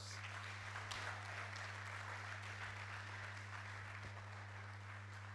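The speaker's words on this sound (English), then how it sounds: "Please, let's give him a round of applause." Applause from an audience at a distinguished alumni lecture, a steady wash of many hands clapping at moderate distance, sitting over a constant low electrical hum from the hall's sound system.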